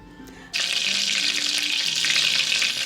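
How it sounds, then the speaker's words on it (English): Olive oil and butter hit a hot large pot with a sudden loud sizzle that breaks out after a short quiet start and holds steady, bright and close, with no talk. "I heated a little olive oil along with some butter in a large pot"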